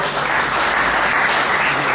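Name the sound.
audience applause in church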